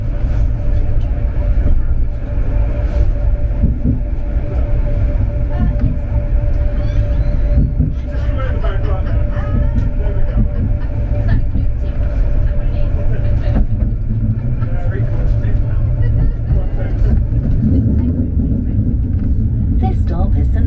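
Steady low rumble of a tram in motion near Wolverhampton St George's and St Paul's, with faint squeals and clatter over the tracks throughout, heard from inside.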